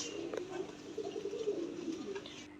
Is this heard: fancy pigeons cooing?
yes